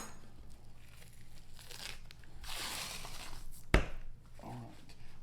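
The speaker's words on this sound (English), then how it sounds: "So I've got the membrane pulled off all 3 racks of ribs." Membrane being peeled off racks of baby back ribs with a butter knife, a steady crinkling, tearing rustle close by, with a sharp click near the end.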